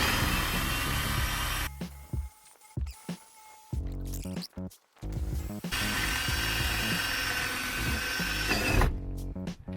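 A power drill drills out old gutter rivets on a VW T2 van, whining in long sustained runs broken by short pauses and brief ratcheting stops, loud and close with no talk.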